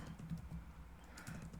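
Quiet typing on a computer keyboard, a run of soft, fast key clicks with a few brighter taps near the end.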